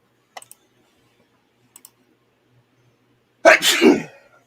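A single sharp sneeze bursts out loudly after a few faint, scattered clicks in an otherwise quiet room.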